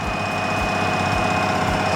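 A Renault farm tractor runs loudly close by, a steady heavy rumble with a rhythmic low throb and a whining tone above it, with no talk.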